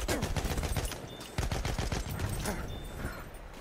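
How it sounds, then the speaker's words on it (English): A rapid-fire gun rattles off fast bursts of shots in Battlefield 1 gameplay, loud crackling volleys over about three seconds with brief pauses between strings. "he tried to shoot me with that that new gun that fires at 5 million rounds per second"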